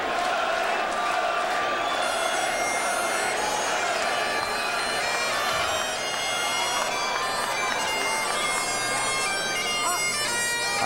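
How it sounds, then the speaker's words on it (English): A dense crowd at a boxing event roars and cheers continuously in a large arena, a loud sustained wash of shouting voices with scattered whistles and whoops. "Listen to that crowd. This place is electric right now."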